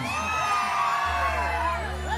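A crowd shouts and whoops together, loud and sustained, with a low hum running underneath.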